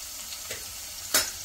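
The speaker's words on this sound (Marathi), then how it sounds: "लसूण थोडासा इथे परतून घ्यायचा आहे." Crushed garlic hits hot oil in a pan for Marathi varan, giving a faint steady sizzle that briefly flares louder near the end, with no talking.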